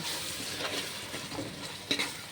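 Prawns and gongura sizzle steadily in a pan as chili powder is stirred in, a continuous close frying hiss with faint scraping stir sounds and no talking.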